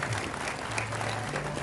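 Audience at a formal function applauding to welcome dignitaries, a short burst of dense, steady clapping from a crowd.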